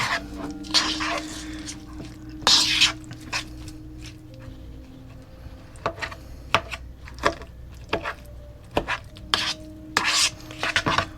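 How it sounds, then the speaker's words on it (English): Spoon or spatula scraping and stirring through a mixture in a bowl, with uneven rubbing strokes and occasional clinks, close by, alongside faint background hum. "Gently fold with a spatula until combined."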